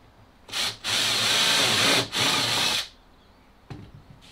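A countersink bit grinds into masonite board in three short bursts of harsh, rasping noise, with brief pauses between them and a soft knock near the end.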